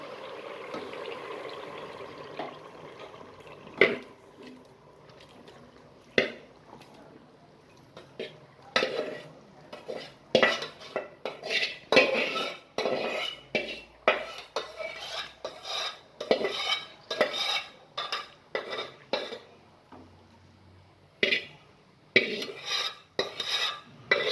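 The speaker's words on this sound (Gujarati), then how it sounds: "પછી મિક્સ કરી દેવાનું." A spoon stirs turmeric sabji in a metal pot, giving quiet, irregular scrapes and clinks that come in bursts, with short pauses between them.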